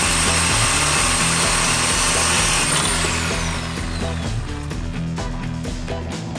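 A power tool blade saws through the exhaust pipe of a BMW 128i during a muffler delete, a loud continuous grinding whine with a pulsing rhythm, close up, tapering off after a few seconds.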